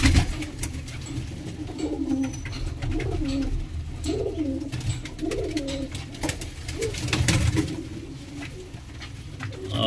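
Pigeons at a bird market coo repeatedly in soft, rolling phrases close by, with a steady bed of background noise and occasional flutters.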